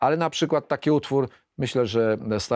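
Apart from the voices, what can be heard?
No everyday noises stand out.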